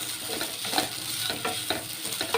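Grated coconut being stirred into beetroot in a pan, a soft scraping of a spoon against the pan in a few strokes over a light background sizzle.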